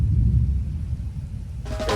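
Thunder rumbling through a tropical storm in the Florida Everglades, a deep continuous roll that swells loud at the start and fades into a steady low rumble, with a brief brighter burst near the end.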